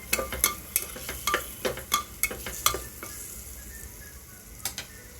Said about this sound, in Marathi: मी आता सर्व परतवून घेत आहे.